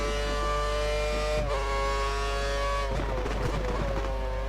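Lotus Formula 1 car in the video game F1 2013 at the Spain round, its high-pitched engine dropping through gears as it downshifts for a corner, with a quick rev blip and steady onboard whine throughout.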